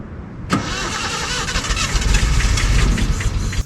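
A Datsun 240Z engine cranks briefly, catches and starts, then settles into a loud, steady running rumble.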